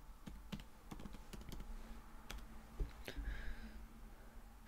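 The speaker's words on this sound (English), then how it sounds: "we're just going to type Harry Potter" Computer keyboard keys clicking in short irregular bursts as a search term is typed, close and fairly quiet against a low steady hum.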